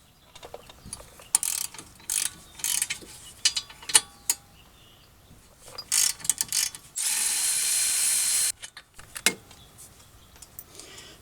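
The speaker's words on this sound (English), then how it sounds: "we need to loosen and remove. There's two larger bolts that hold this caliper bracket in place" A ratchet clicks in short bursts as it loosens the 17mm caliper bracket bolts on a 2013 Hyundai Accent's front brakes, rapid pawl ticks close by with gaps and one longer steady run.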